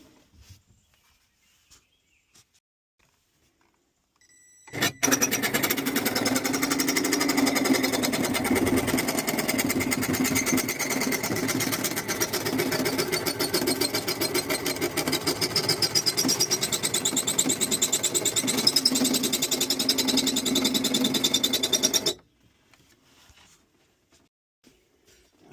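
A power saw cuts an opening in the fibreglass shell of a Scamp Lite trailer, starting abruptly after near-silence and buzzing loud and steady with a rapid rattling vibration for about seventeen seconds before stopping dead.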